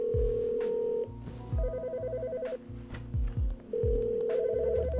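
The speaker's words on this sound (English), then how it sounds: "let me answer my phone" Telephone ringing in a toy-style stationery supplies game, a repeating electronic ring in bursts, loud and close, with game sound effects underneath.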